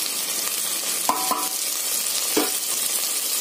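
Mint leaves frying in a pan for parotta chicken salna give a steady close sizzle, with a couple of brief clinks as a utensil stirs them, no talking.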